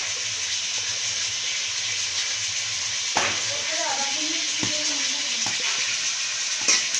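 Duck meat with spices frying in a pan for Assamese duck curry, a steady broadband sizzle throughout with a few sharp clicks and stirring scrapes partway through, close and moderately loud.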